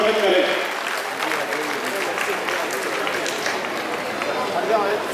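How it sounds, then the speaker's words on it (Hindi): A crowd at an Agrawal community honors ceremony applauds the honorees with a dense, steady wash of clapping that holds at an even level throughout, with no speech over it. "एक बार सभी से निवेदन इन विभूतियों के लिए भी जोरदार तालियों से आप इनका उत्साहवर्धन करें।"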